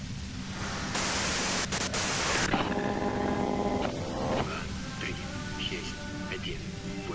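A loud burst of hissing white-noise static lasting about a second and a half in the video game Disco Elysium, followed by steadier tonal game sounds and a low background hum.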